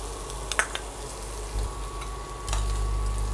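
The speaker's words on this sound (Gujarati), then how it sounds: "ડુંગળીને થોડી ગુલાબી રંગની થાય ત્યાં સુધી સાતડીશું." Chopped onions turned pink, then whole green chillies added, sizzle gently in a pan of oil for brown rice pulao, a soft steady frying hiss with a few utensil clinks and stirs.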